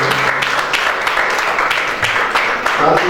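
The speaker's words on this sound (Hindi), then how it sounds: "जोड़कर तालियां बजाइए" Applause from an audience at a youth day ceremony, a broad wash of clapping that holds steady for a few seconds at close range.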